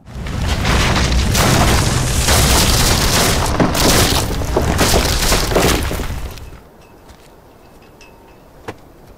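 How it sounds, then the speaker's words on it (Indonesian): A long, loud barrage of rifle gunfire hitting trees in a forest, with splintering crashes for several seconds, then sudden near-silence broken by one sharp crack. "mulai menembaki pepohonan di sekitar hutan"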